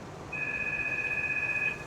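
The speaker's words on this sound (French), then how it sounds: "Ah, le téléphone sonne." A telephone rings in a Farming Simulator 19 game, a steady electronic two-tone ring holding for over a second above low background noise, with no voices.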